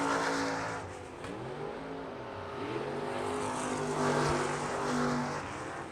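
Non-wing sprint cars roar past on a dirt track at South Texas Race Ranch, engines revving and droning in overlapping waves as they pass the start-finish stand, fairly distant and continuous.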